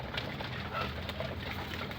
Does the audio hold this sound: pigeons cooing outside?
yes